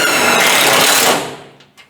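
A power drill spins up loudly and drives a self-tapping screw into the metal of an old car, a harsh continuous whir lasting about a second before winding down, followed by a faint click.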